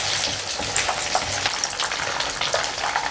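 Whole spiced Lahori chargha chicken fries on its second side in a pan, giving a dense, steady sizzle with crackling oil that runs unbroken and fairly loud throughout.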